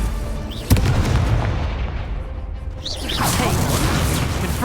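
Confringo spell explosion in Hogwarts Legacy, a single sharp blast that fades into a rumbling tail, followed by whooshing, swirling magical sweeps, all fairly loud and close.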